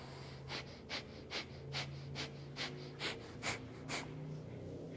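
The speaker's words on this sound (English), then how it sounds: "let your head hang down. If not, leave your head up by your chest and breath of fire" Rapid, rhythmic Kundalini yoga breath of fire: about ten sharp, evenly spaced nasal exhalations, close and moderately loud over faint steady background music.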